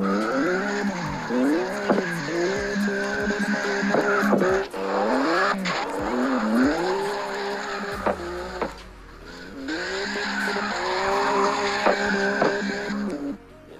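Drifting cars in the CarX Drift Racing 2 mobile game, with long rising and falling tire squeals over a loud revving engine, and brief pauses in between.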